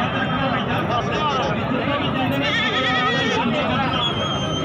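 Goats bleat repeatedly at a busy livestock market, the wavering calls rising over a constant din of crowd chatter and voices, with someone talking throughout.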